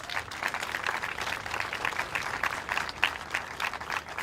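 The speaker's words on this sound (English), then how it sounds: "Let's give them another round of applause." Lively clapping from a crowd honouring students at a school mural unveiling on Niagara Street in Buffalo, a dense, slightly uneven patter of many hands that keeps going for the whole stretch.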